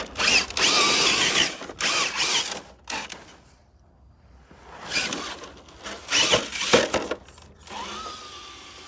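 Traxxas TRX4 RC truck with a Hobbywing Axe R2 2100kv motor bashing around in dirt, producing bursts of high-pitched electric motor whine and gravel crunch, with short pauses in between, close to the listener.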